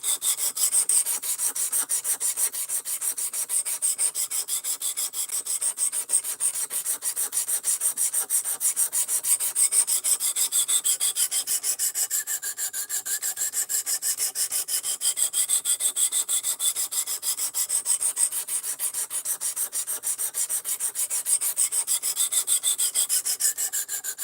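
A metal blade being filed along its length to an even bevel until a burr forms, heard as steady, close rasping strokes that continue without pause and with no talking.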